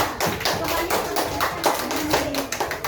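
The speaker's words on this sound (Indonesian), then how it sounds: "Oke, tepuk tangan untuk semuanya" Schoolchildren clap their hands in class, a quick, somewhat uneven run of close slaps from a small group, with a voice talking through the clapping.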